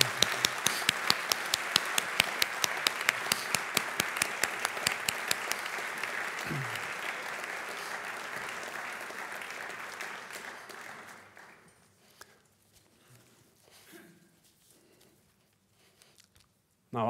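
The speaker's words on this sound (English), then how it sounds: "we give them a warm applause as they take their seats on the podium" A conference audience in Norway applauds Kofi Annan and Gro Harlem Brundtland as they take their seats on the podium, dense clapping with sharp individual claps that fades out after about ten seconds, leaving quiet room noise and faint murmurs.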